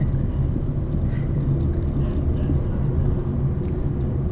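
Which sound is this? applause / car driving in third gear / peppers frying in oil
car driving in third gear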